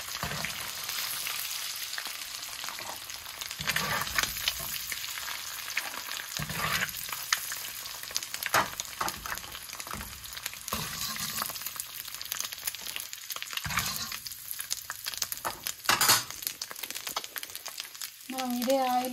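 Spices with turmeric, pepper powder, chili powder and salt sizzle and fry in oil in a pan, a steady close crackle with occasional stirring scrapes, while a voice talks over it.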